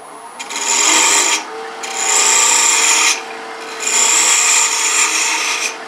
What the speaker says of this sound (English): I'm going to use that small bowl gouge, and I'm just going to, from this mark right here, I'm going to waste it down.